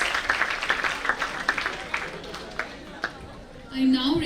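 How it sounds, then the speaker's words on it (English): A conference audience applauds contestants after their idea presentations, a crowd's clapping under a voice and chatter, fading toward the end as a louder tone cuts in. "Let's give a huge round of applause for all our contestants"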